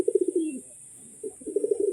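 A male pigeon coos close by in short, throaty, rolling bursts, pausing briefly before cooing again, with a faint steady high hiss in the background.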